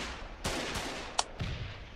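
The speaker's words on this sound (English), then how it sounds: "I hear gunshots." Scattered gunshots ring out in the war video game Foxhole, three or four distant cracks spaced irregularly over a quiet background, with one sharper, brighter report among them.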